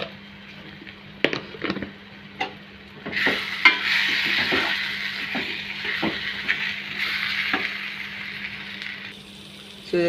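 Egg curry masala with chilli powder frying in a pan, a steady soft sizzle with scattered clinks and scrapes of a spoon stirring, moderately close and without talk.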